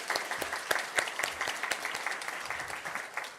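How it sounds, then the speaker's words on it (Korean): A church congregation claps during a Sunday worship service to welcome an elderly member; steady, moderately soft applause from many hands, with some sharper individual claps standing out, lasting a few seconds before tapering off. "우리 박수로 한번 환영하도록 하겠습니다."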